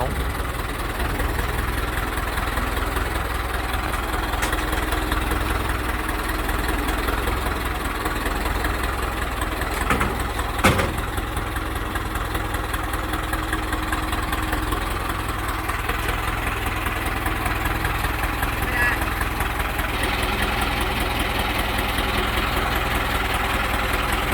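A Ford 6610 tractor engine idles steadily and close, a constant low rumbling drone with a faint knock, under quiet talk.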